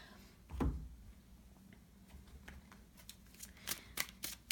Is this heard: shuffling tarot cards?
yes